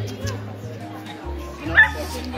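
A small dog yips and whimpers at a Halloween dog parade on a New York City street, short excited barks up close amid lively chatter from people nearby.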